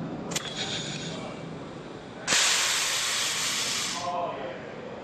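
Pneumatic spring-return actuator on a ball valve venting air as the valve springs closed: a sudden loud, sustained hiss of escaping air lasting nearly two seconds, close by and following a quieter, steady background rush.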